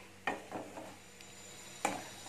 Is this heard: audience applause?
no